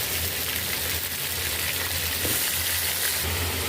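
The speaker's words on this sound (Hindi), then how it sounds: "जब तक इसका कलर चेंज नहीं होगा इसको हमने भून लेना है, अच्छे से इसको फ्राई कर लेना है।" A kilo of chicken frying in a karahi for a black pepper chicken karahi, giving a constant loud hiss of hot oil with faint stirring touches, close and uninterrupted.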